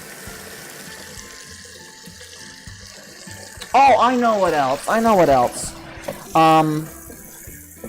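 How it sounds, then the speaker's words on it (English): Tap water runs steadily into a kitchen sink as a broad, continuous hiss, with a person speaking over it partway through. "Let me turn this water off."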